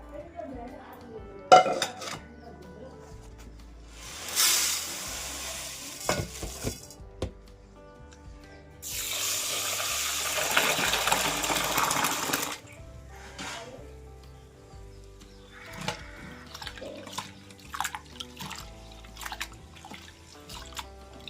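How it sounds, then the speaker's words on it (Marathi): Rice, about one to one and a half kilos, washed in water in a vessel for the third rinse: splashing swishes in bursts, with clinks of the pot and drips between, close and moderately loud. "मी 3ऱ्या वेळेला पाणी टाकून तांदूळ धुते."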